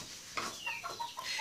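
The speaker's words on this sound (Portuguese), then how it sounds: "Olha o frango que tá aqui na sua porta, mãe." A chicken clucks at a house doorway on a rural property, a short run of several close, loud clucks in quick succession.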